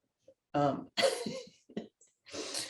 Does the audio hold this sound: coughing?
yes